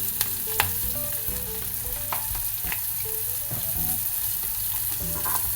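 Green chili and turmeric powder fry in a pan for a buttermilk curry, a dense continuous sizzle close up with scattered scraping stirs throughout and no talk.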